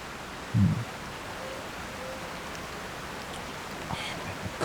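A waterfall in the video game Tears of the Kingdom rushes as a steady, soft broadband wash of water noise, with a brief low thump near the start and no talking.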